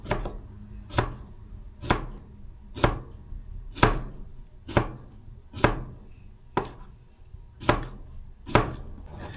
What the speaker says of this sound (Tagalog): hiwain naman po natin yung pipino